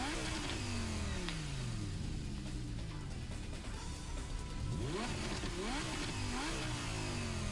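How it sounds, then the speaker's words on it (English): A car engine in Gran Turismo Sport revs hard and repeatedly, with rising and falling pitch sweeps as it accelerates and shifts, loud and steady throughout with no talking. "that engine sounds nice"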